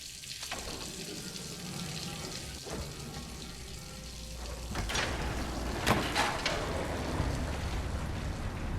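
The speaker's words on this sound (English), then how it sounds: "That is very loud water." A loud, steady rush of flowing water fills a scene in the video game Myst, continuous broadband noise with a few brief surges and knocks and no talking.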